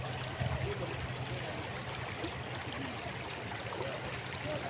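Floodwater rushes and churns continuously over a spillway, a broad steady roar of heavy flow pouring close by.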